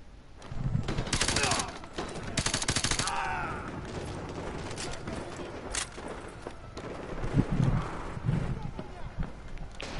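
Bursts of automatic gunfire in Call of Duty Modern Warfare 2, two long rattling volleys early, then scattered single shots and thuds with a voice talking over them.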